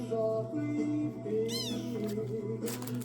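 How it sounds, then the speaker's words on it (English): A house cat gives a clear rising-and-falling meow midway, followed by a sharper short cry, over a steady background hum. "What's going on, cat?"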